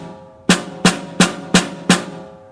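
Snare drum struck in an even, slow rhythm with alternating sticking, five crisp, sharp hits spaced evenly, close and loud with short decays and no talking.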